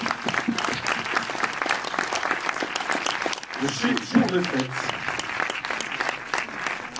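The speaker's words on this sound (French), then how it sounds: "Et vous pouvez continuer vos applaudissements" An audience claps continuously at a cinema Q&A screening while a presenter speaks over the applause, a dense, even patter of many hands filling the room.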